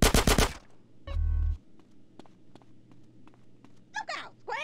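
Gunfire in GTA San Andreas on PC: a loud rapid burst at the start, another short burst, then scattered single shots, with faint voices in the background.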